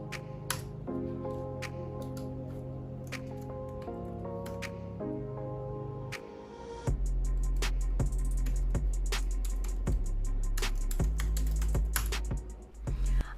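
Typing on a Seenda backlit keyboard gives soft, quick key clicks in irregular bursts, close up, with a deeper rumble joining partway through.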